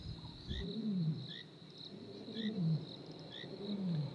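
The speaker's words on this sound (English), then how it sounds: "Mandevu busy roaring loudly." A wild male lion named Mandevu gives a series of deep, grunting roars, three or so low pulses repeating at steady intervals, heard over a constant high chorus of crickets or insects at night.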